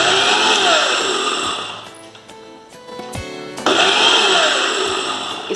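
A kitchen mixer blends Oreo biscuits with milk and sugar into a shake: a loud whirring grind that winds down, pauses briefly with a few rattles, then starts again at full speed.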